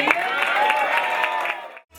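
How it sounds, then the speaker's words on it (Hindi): An audience claps and cheers for children at an event, a brief burst of crowd applause with voices mixed in under it, ending abruptly in near silence. "बहुत सारी तालियां इन बच्चों के लिए"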